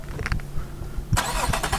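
A car engine cranks over with a few brief starter pulses, then catches and fires into a bright, close, steady idle with no talking.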